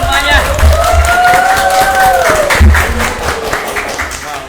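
Students at a school council campaign launch clap and cheer for several seconds, a loud dense patter with shouting voices and talk rising over it.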